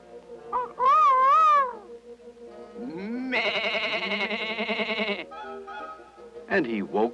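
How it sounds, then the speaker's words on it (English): Sheep bleating in a 1961 children's story recording, with a long wavering bleat in the middle and shorter calls before and after, alternating with a narrator's voice. "And he woke the sheep."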